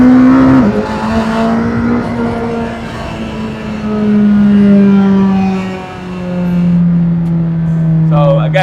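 A 2019 McLaren Senna MSO accelerates hard under full throttle, its engine note holding a loud, close, sustained roar that swells and eases through the run, with some rattly noise and a voice talking over it.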